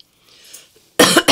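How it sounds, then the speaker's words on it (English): A close, loud burst of coughing from one person, a harsh cough followed by a second shorter one after a brief pause, coming out of near silence. "So that's part of why I'm coughing and carrying on."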